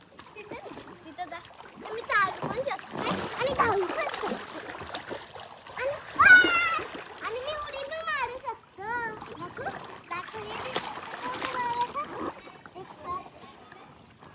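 Water splashes repeatedly as several people play in it, with children shouting and laughing over the sloshing.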